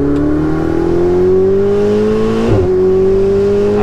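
A Ferrari 488 Spider engine revs steadily upward with a rising, smooth tone, loud and close, holding briefly with a small bump midway, no talk.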